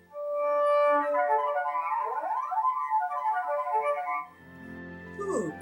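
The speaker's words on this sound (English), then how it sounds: "We can do harmonics, and those sound like this." Cello harmonics played alone, pure whistle-like sustained tones that slide and bend in pitch, clear and fairly loud up close, ending with a short descending glide.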